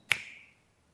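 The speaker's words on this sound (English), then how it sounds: "How fast is a finger snap?" A single crisp finger snap, close and sharp, with a brief ringing tail that fades within half a second in otherwise quiet surroundings.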